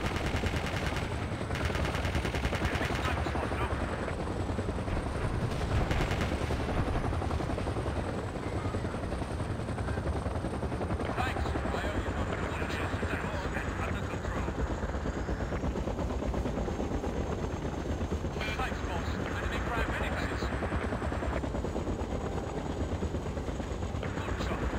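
Loud helicopter rotor drone runs throughout the Battlefield 2 match in the Ghost Town map, overlaid with repeated bursts of automatic gunfire and scattered shots, with no speech.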